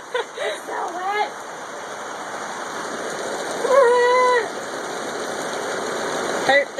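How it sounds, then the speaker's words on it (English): Water pouring from a small pipe in a flooded auxiliary gym, a steady hissing rush throughout with voices talking over it and a brief squeaky whine in the middle. "Look at the water coming out of the little pipe thingy."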